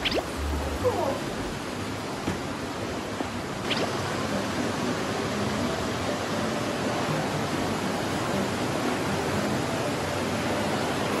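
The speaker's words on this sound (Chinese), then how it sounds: "听到潺潺的流水声了" A babbling stream flows near the Ryusendo cave in Iwate, Japan, its continuous rushing hiss filling the scene at an even level, with a few faint knocks early on.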